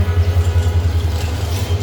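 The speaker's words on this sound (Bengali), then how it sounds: "ইঞ্জিন শান্টিং করা হইতেছে" A railway locomotive shunting at dawn: a low, steady engine rumble drones throughout with a pulsing throb, moderately loud and close, with no talking.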